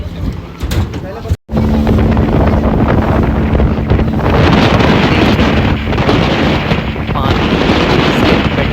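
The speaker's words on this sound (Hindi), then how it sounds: "पानी इतना तेज़ आ रहा था हमारी तरफ, और जो बोट चला रहा था वो भी इसी तरफ ही उसको कर रहा था" Boat ride on open water with spray and strong wind buffeting the microphone, a loud continuous roar and rush with an engine drone underneath and a brief dropout near the start.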